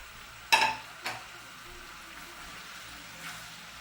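Chopped onion, Scotch bonnet, thyme, ginger, green onion and carrot land in a chicken stew pot with a sharp metallic clink, a second softer knock, then a low steady sizzle and faint stirring.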